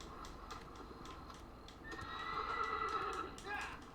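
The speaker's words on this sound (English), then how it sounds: "My horse is fine." A horse in the video game Shadow of the Colossus whinnies loudly for about two seconds, rising out of a steady background of game ambience with faint hoof clatter earlier on.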